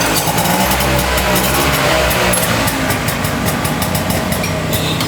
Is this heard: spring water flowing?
no